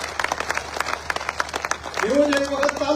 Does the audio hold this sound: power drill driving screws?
no